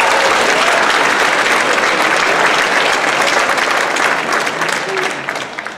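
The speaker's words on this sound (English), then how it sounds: "So let's give Josiah a clap." Applause from a choir concert audience honouring a student's state acceptance, dense and steady, fills the hall for several seconds before thinning out at the end.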